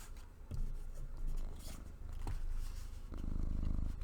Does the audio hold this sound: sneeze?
no